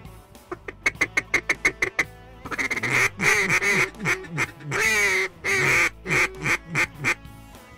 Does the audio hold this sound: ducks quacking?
yes